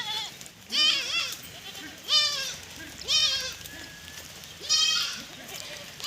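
Several goats bleat in loud, wavering calls at a goat farm during the rainy season, four main cries spaced a second or so apart over steady background noise while the animals feed on fodder.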